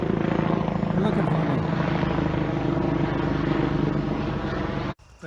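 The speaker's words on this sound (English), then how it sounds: "And a helicopter." A helicopter flies overhead in wide open country, its steady rotor chop and engine drone loud and close for several seconds before cutting off abruptly near the end.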